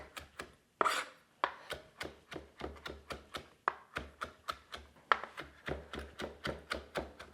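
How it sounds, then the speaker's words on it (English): Herb leaves chopped roughly on a cutting board for lasagna soup, a steady run of about twenty close, crisp knife strikes in an even rhythm with no talk. "Give it a rough chop"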